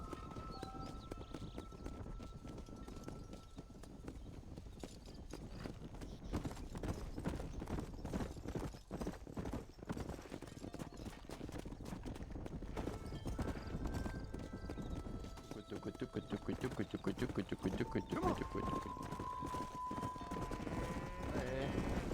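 Horse hooves gallop in Red Dead Redemption, a rapid, steady clip-clop that runs throughout, with brief whinnies and other game sounds mixed in and occasional voices talking over it.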